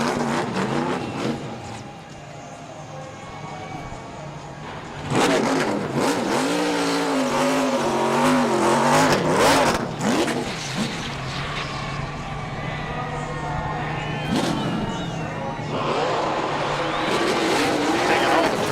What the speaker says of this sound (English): Taking all the tread off those tires, isn't he? You can see the Goodyear rubber just being laid down there.